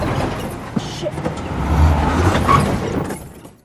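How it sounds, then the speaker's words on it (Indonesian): Car driving in a film scene, its engine rumbling and swelling midway before fading out, with voices talking over it. "Michael pada akhirnya mulai bisa mengemudikan sebuah mobil."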